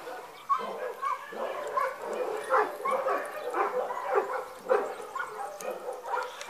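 A dog barks and whimpers close by, with repeated yips and whiny cries in an uneven rhythm throughout, while people talk quietly in the background.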